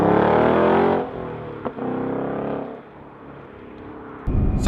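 A 2024 Ford Mustang RTR Spec 2 driving on the road, its loud engine note holding steady then dropping away after a brief gap, settling into a quieter cruise before a sudden burst near the end.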